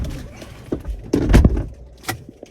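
Car keys for a 2014 Ford Ranger 3.2 TDCI Wildtrak jangling close by, a short burst of bright metallic clinks with a louder rattle in the middle, alone in a brief moment.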